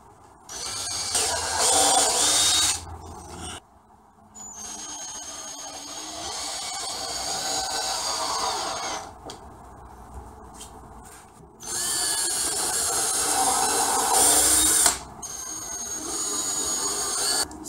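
A power tool drives nails into a wooden bench leg in several loud, whining bursts separated by short quiet gaps.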